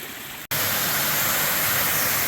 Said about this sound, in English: There's a waterfall coming down the mountain that we're coming down.